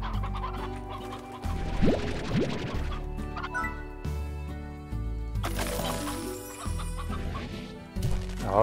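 Chickens cluck in the Slime Rancher video game, with short fowl calls repeating over steady game music, moderately loud and with no talking.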